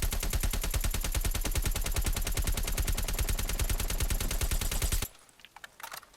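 A rapid, sustained burst of AK assault rifle fire in Call of Duty: Black Ops Cold War, loud and close with evenly spaced shots for about five seconds, then stopping abruptly and leaving faint clicks and handling noise.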